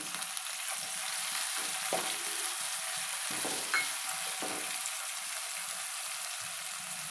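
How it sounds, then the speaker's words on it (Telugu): Tomato pieces cooking in a pan for capsicum rice give a soft, steady sizzle, joined by a few louder stirring scrapes and clicks, close and without any voices. "టమాటాలు సాఫ్ట్గా అయ్యే వరకు ఉడికించుకోవాలి"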